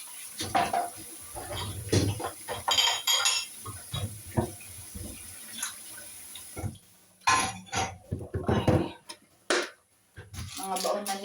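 Dishes, pots and cutlery clatter and clink in a kitchen sink with running water, irregular knocks and splashes close by, while voices talk intermittently.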